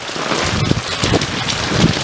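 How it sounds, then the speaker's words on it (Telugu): Heavy rain driven by strong gusty winds in Hyderabad, a dense continuous roar of pouring water with steady wind noise, loud and close throughout. "గాలి వానతో కూడిన వర్షం పడుతోంది."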